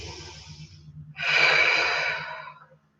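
A single deep yoga breath, a quiet inhale followed by a long, full, breathy exhale that is close and clear before fading out, over faint background hum.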